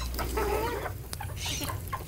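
Chickens clucking on a half-acre homestead in Northern California, a close, busy run of short overlapping clucks and murmurs with no talk.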